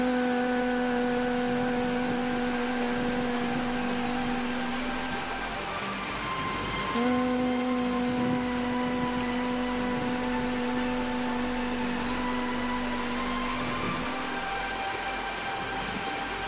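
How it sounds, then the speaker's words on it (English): A group hums steadily on the out-breath during a breathing exercise, a sustained low drone with a brief pause and swell midway, filling the room evenly with no speech. "as we breathe out, we start making a humming sound"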